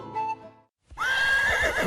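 A wild black horse's neigh as a sound effect: a short whinny, a brief silence, then a loud, long, wavering whinny up close.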